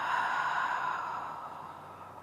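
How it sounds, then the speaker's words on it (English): An audible exhale through the mouth during a breathing exercise, a single soft, steady breathy rush that tapers off over about two seconds, close and alone. "Exhale, make that audible sound."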